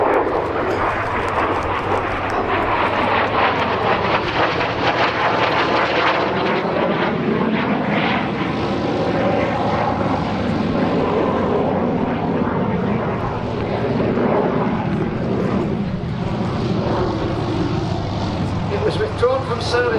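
F-86 Sabre Mk.6 jet making a flying display pass at an airshow, a broad jet roar that swells and sweeps in pitch as it goes by, with a commentator talking over it throughout.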